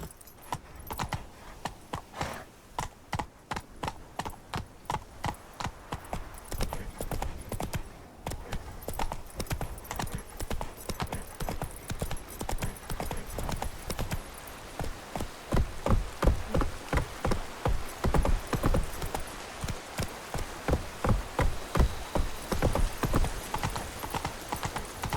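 Horse hooves gallop in The Witcher 3: Wild Hunt, a fast and steady run of close, loud clip-clop beats that continues throughout.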